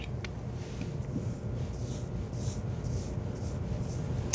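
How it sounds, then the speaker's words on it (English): Razor knife scraping dried glue off a wooden surface during finishing, a steady close rasping scrape that continues evenly throughout with no talking. "Actually use that razor knife and sand off the glue on that spot instead of trying to come back with it with sandpaper."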